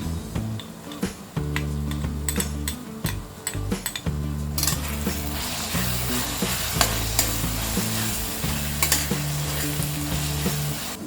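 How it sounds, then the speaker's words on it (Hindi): Tomatoes with coriander powder, black pepper and Kashmiri red chilli powder sizzle steadily in a hot pan, with frequent spoon scrapes and clinks against the metal, close and continuous with no talking. "जब तक ये टमाटर फ्राई हो रहे हैं"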